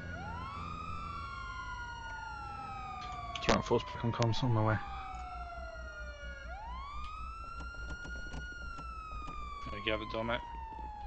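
A police siren in the GTA video game wails in long rising and falling sweeps, loud and steady, while people talk over radio comms beneath it.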